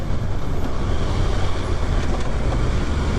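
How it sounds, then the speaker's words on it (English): A 2023 Kawasaki Ninja ZX6R with its stock exhaust is ridden at speed, giving a steady, loud engine drone mixed with heavy rushing wind noise. "The bike sounds pretty good with the stock exhaust"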